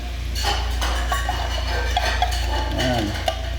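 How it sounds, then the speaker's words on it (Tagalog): A metal spoon scrapes and clinks against a worn frying pan (kawali) while Maja Blanca cooks, with repeated rhythmic scraping over a steady low hum. "Kinakayod yung kawali."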